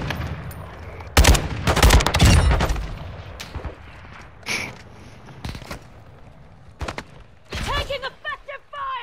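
Gunfire in Call of Duty: Modern Warfare II, with loud, close bursts of shots clustered early on and scattered single reports later, mixed with game sounds and some voice chatter.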